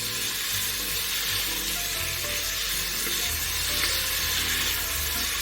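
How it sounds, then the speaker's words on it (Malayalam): Onions frying with salt in a pan for cooker biryani, giving a constant loud sizzle with occasional stirring scrapes underneath, close and continuous. "എന്നിട്ട് എല്ലാം ഇളക്കി യോജിപ്പിച്ച് നല്ലപോലെ മൂപ്പിച്ചെടുക്കണം സവാള."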